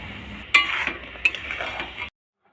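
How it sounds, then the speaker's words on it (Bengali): A metal spatula stirs and scrapes a thickening coconut, jaggery and sugar mixture in a wok over medium-low heat, giving a couple of sharp clinks among soft scraping and faint sizzling before stopping abruptly. "এইবার ঘন ঘন এটাকে নাড়তে হবে খুন্তি দিয়ে।"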